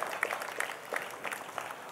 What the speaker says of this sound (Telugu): మన యొక్క చప్పట్లతో అభినందనలు తెలియచేద్దాం